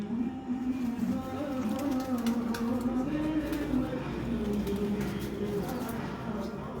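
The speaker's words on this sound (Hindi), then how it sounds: "ये देखें जी, 70 कबूतर माशाल्लाह छोड़े हैं" Flock of about seventy homing pigeons released to fly overhead, with a steady wash of wings, cooing and rustle outdoors, continuous and moderately loud throughout.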